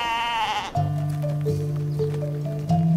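A sheep bleats in a long wavering cry, followed by a lower, drawn-out bleat close by, with faint background noise and no talking.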